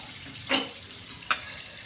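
Capsicum and crushed peanut powder stirred in oil in a pan, with two short scraping strokes over a faint, quiet sizzle.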